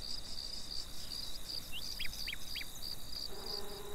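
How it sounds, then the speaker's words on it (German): Rapid, high-pitched insect-like buzzing and chirping from bees in the video game Lakeview Cabin, steady and fairly faint throughout with a few brief rising chirps in the middle; no speech. "Da sind Bienen, die wollen mich bestimmt auch umbringen."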